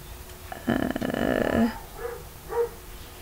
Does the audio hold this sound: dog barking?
yes